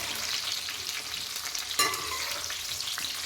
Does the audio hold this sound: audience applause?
no